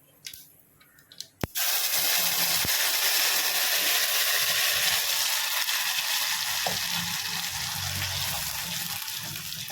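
A wet paste of roasted gram, tomato and onion hits a hot pan at once, setting off a loud, steady sizzle that persists close and even throughout after a brief quiet start and a sharp clunk.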